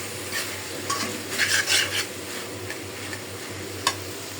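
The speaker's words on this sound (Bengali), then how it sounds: "বেগুনটা দিয়ে দিলাম। এখন শুধু ভাজি করব।" Eggplant frying in a pan with onion, garlic and dried fish, a soft sizzle under intermittent stirring scrapes and clicks of a spatula, with one sharper tap near the end.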